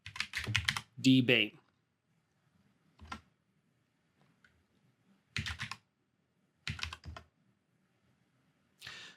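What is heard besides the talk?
typing a command on a computer keyboard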